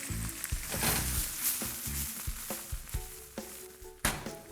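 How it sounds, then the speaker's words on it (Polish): Pumpkin and brown lentils sizzle and crackle in a hot pan with scattered clinks and scrapes of stirring, close and busy throughout. "Do przesmażonej dyni dodaję brązową soczewicę."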